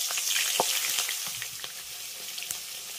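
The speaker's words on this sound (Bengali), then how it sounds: "এবার এই একই তেলে ভেজে নেব বেগুনটা" Eggplant slices fry in hot mustard oil, a steady close sizzle with scattered spits and pops running throughout, no voices.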